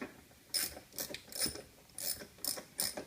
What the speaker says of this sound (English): Get your 10mm socket.